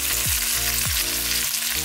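Shredded pork stir-frying in a hot pan over medium-high heat, a dense loud sizzle with a couple of low sweeping scrapes or tosses as the meat is moved.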